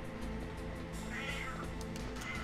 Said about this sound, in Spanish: Pues luego se pone triste el gato porque se piensa que lo estoy ignorando. Y grita aún más.